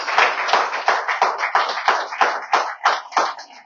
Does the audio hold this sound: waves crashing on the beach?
no